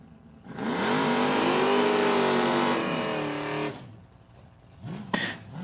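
Drag racing cars at Numidia Dragway in a Sportsman Consolation final round roar hard off the line, a loud sustained acceleration with rising engine pitch for about three seconds before cutting off, followed by a brief distant rev.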